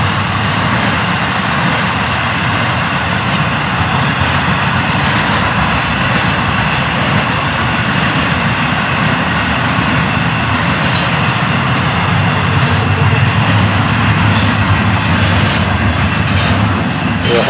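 FEC 105, a 10,100-foot freight train, rolls south toward Fort Pierce with loud, steady wheel rumble and clatter throughout.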